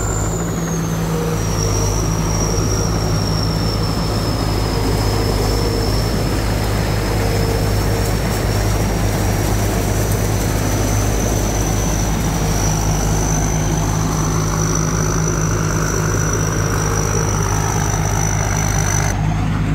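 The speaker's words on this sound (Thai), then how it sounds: "ใช้เครื่องยนต์ฮีโน่" A lightweight rice combine harvester with a Hino J4 engine and Eaton hydraulic pump runs continuously at close range, a steady loud engine drone with a constant high whine over it.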